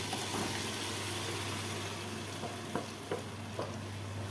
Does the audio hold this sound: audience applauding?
no